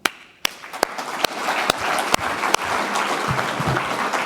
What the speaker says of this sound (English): Marcel, Friedrich, Paolo, and Stefan, this is also your applause.